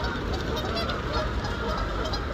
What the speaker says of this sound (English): You hear the geese.